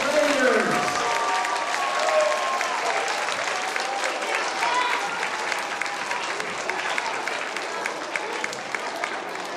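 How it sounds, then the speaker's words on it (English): Big, sustained audience applause at a school show honoring first-grade performers, steady and dense throughout with a few voices calling out over the clapping. "let's have another huge round of applause for our first graders."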